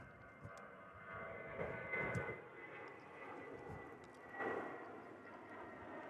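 A Finnair Airbus A350 at DFW airport, a faint, distant jet engine rumble with a soft whine that swells gently a couple of times over a quiet background.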